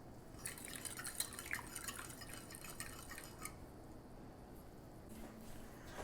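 A thin trickle of water poured into ragi dosa batter, quiet splashing and dripping that stops partway, then a few faint drips.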